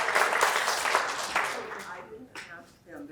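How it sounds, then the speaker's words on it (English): Brief applause from an audience at a local journalism forum rises and then tapers off quickly, giving way to voices talking. "I didn't ask them to clap"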